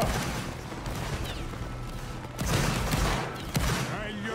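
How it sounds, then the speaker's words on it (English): Massed musket volleys crackle in a Roblox Napoleonic Wars battle, a dense roar of gunfire with sharp bursts near the middle and end, heard amid shouting players. "Andor, we're shooting your Austrian line"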